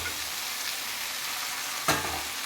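Chicken pieces hit a pan of sizzling ginger-garlic paste, giving a steady close frying hiss with one sharp clatter and surge of sizzle partway through, no talk.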